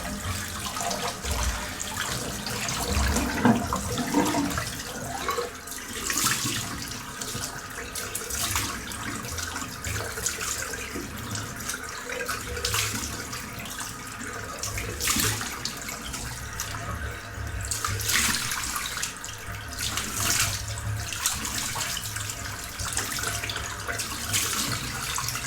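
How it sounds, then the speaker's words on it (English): Tap water runs steadily into a sink with repeated hand splashes while rinsing the face after a wet shave with Proraso Green soap, a shaving brush and a stainless steel safety razor, close and continuous, with no talking. "So that was a good splash of warm water, followed up by a good splash of cold."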